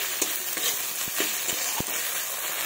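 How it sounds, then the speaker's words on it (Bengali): Garam masala paste being sautéed in a pan for a duck egg curry, with a steady low sizzle and several soft scraping stirs of a spatula, close and continuous, no voices. "ভালোভাবে কষিয়ে নেব।"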